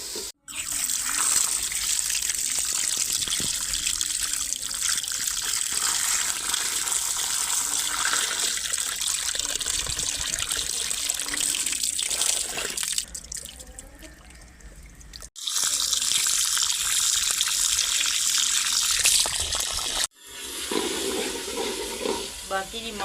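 Tap water running steadily in a village kitchen while meat is washed for curry, splashing loudly for long stretches with short pauses where the flow stops and restarts, with faint speech in places.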